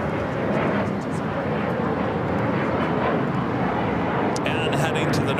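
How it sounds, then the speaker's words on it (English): Broad, steady jet roar of a British Airways Boeing 777-300ER airliner arriving, loud and continuous, with a brief burst of higher noise near the end. "That's British Airways Flight 283 coming in from London Heathrow on the 777-300ER"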